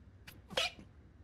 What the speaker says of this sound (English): Was trying to hold a sneeze in.